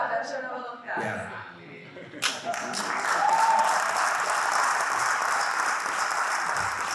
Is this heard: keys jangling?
no